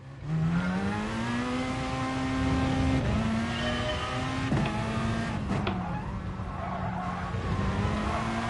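A race car engine in a racing video game revs hard on the throttle, its steady high drone rising and holding with small pitch shifts and gear changes, loud and close with no talk.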